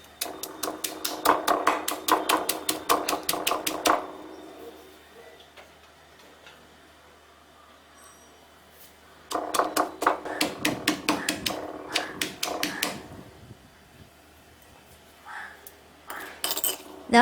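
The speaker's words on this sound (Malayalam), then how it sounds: "ഞാനിപ്പോൾ ഇങ്ങനെ ഒരു കല്ലിൽ വെച്ചാണ് ചതച്ചെടുക്കുന്നത്." Shallots and ginger are pounded on a stone for a sardine and gooseberry curry, with a rapid run of sharp, close knocks, a quiet pause, then a second burst of rhythmic pounding and a few last strikes.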